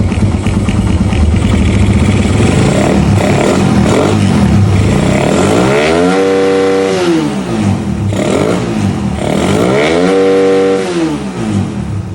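Raider 150 carbureted motorcycle engine running stock CD and ignition coil, revved up twice from idle in loud, close, rising-and-falling sweeps, with a rough idle between blips.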